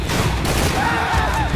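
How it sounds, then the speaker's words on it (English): Dense gunfire and a blast from the shooter Max Payne 3, set on a pier, merge into a loud, continuous roar with a rising whine toward the end and no gaps. "that was nice shot to make that explosion"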